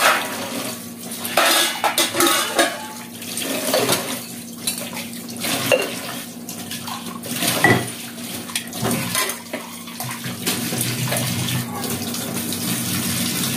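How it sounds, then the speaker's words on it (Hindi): Dishes, pots and pans being washed by hand at a home kitchen sink under a running tap, with steady water flow and repeated clinks and clatters of utensils throughout, close and fairly loud, no talking. "बर्तन साफ कर रही हूँ"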